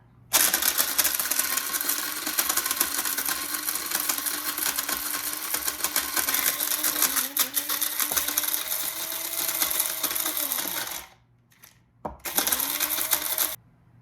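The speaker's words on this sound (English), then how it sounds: "after about a minute of grinding, this is what I've got" An electric grinder pulverises dried liver for capsules with a loud, dense whirring roar. It runs steadily for about eleven seconds, cuts out briefly, then bursts back on in a short final pulse.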